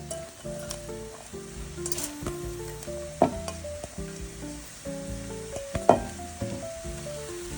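Bean sprouts sizzle in a hot pan for vegetable fried rice, a steady crackling fry with occasional scraping stirs and a couple of sharper clanks of a utensil against the pan.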